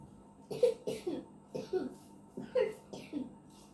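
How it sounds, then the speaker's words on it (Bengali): Several sharp coughs close to the mic, roughly seven bursts in uneven pairs and clusters over a few seconds, with short quiet gaps between them. "আমার তো অনেকটা কাশি হয়েছে না?"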